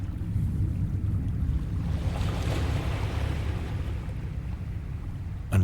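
Water and waves wash against the base of a chasm in the Lovecraft horror game Dagon, a low continuous rolling wash with a gentle swell in the middle, alone without talk.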